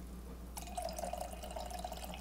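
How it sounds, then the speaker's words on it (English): A splash of seltzer is poured into a small glass, starting abruptly with a fizzy, bubbling trickle that runs on steadily at low volume. "And then you want to add a splash of seltzer."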